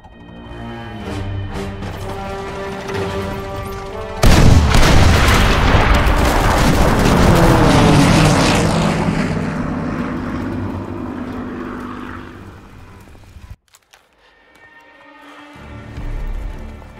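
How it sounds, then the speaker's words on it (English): Bombers thunder overhead during a Call of Duty WW2 multiplayer match, a droning propeller roar that erupts into a long, loud explosive blast and rumble, then cuts briefly to silence before the engine drone returns. "Now our bombers can hit their targets."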